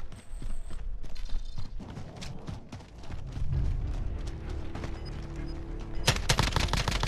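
Gunfire in Call of Duty Warzone, made of scattered sharp shots and bursts with clattering mechanical noise, ending in a loud, dense final burst.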